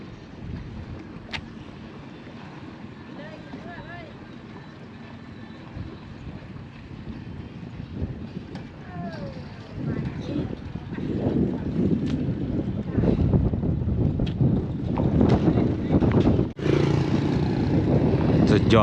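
A boat moves steadily on water in Laos with low engine rumble and wind buffeting the microphone, growing louder partway through; voices can be heard faintly.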